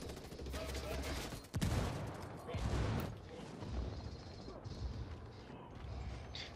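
Gunfire in Ghost Recon Wildlands crackles as bursts of rapid shots and sharp reports. One louder crack stands out, set against a busy, noisy combat background, and a person talks over the action.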